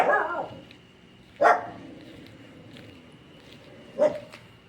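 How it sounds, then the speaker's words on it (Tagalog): A dog barks in single sharp outbursts, three loud close barks spaced a couple of seconds apart, the first fading into a whine, with quiet stretches between. "Kasi pag lumabas mo tayo doon, mag-ingay po yung mga aso"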